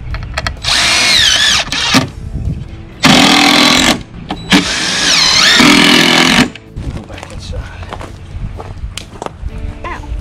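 A power drill whirs in several bursts of a few seconds each, rising and falling in pitch, with quieter gaps and background noise between.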